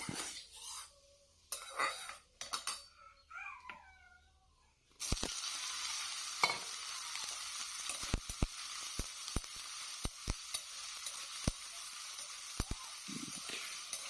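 Soy chunks hit hot oil in a wok after a few quiet seconds with faint sounds, then a steady close sizzle runs to the end, punctuated by sharp clicks and taps from stirring.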